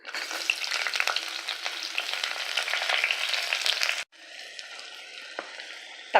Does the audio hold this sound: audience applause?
no